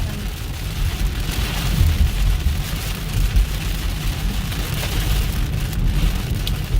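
Heavy rain from a severe thunderstorm in Texas pounds a car on the road, a dense, steady hiss and drumming on the vehicle with low road rumble underneath, continuous and without voices.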